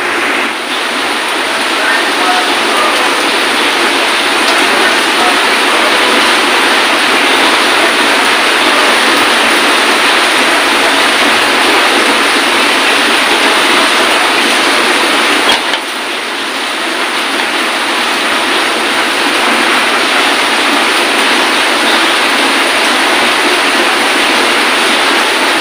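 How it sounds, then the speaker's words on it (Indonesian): Heavy rain falls outside, a loud, dense, continuous hiss and roar that holds steady throughout with only a brief dip midway. "Ini di luar hujan besar"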